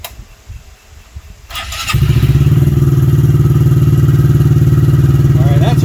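A Honda Grom 125 motorcycle is cranked and catches after a brief clatter, then settles into a loud, fast, steady idle with a rapid even throb, close up.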